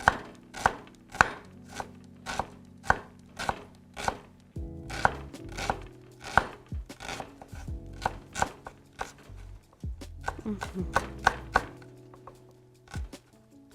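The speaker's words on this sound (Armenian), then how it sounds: "Այսպես բավականին մանր կտրատվեց մեր սոխը" A knife chops onion finely on a board: quick, evenly spaced taps close by, a brief pause, then more rhythmic chopping.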